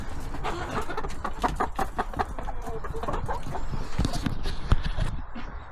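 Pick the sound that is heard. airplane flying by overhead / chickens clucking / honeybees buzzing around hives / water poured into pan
chickens clucking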